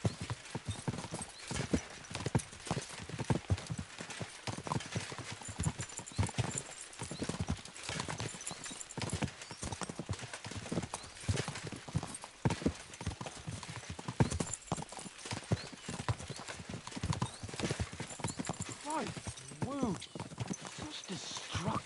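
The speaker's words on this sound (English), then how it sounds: "We should spur the horses on." Horses' hooves clip-clop steadily and fast through the whole stretch in Kingdom Come Deliverance 2, with an occasional neigh, close and loud, while game characters talk over the galloping.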